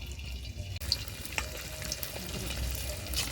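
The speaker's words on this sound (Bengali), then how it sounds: "তো চিকেনটা এবার ভাজার জন্য কড়াইতে সাদা তেল গরম করতে দিয়ে দিয়েছি। এবার ভেজে নেবো।" Chicken frying in hot white oil in a wok, a steady close sizzle and crackle throughout with a few brief stirring knocks.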